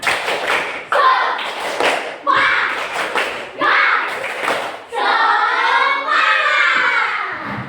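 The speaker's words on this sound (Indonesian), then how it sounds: "Kita tepuk semangat dulu ya. Tepuk semangat." A classroom of children in a Hindu religion lesson performs a rhythmic spirit clap, with bursts of unison hand claps and thumps between chanted group voices, ending in a sustained shouted chant.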